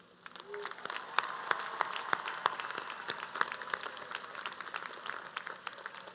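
Commencement audience at a CSUN graduation ceremony applauding faculty and staff, a sustained wash of crowd clapping that swells and holds steadily throughout.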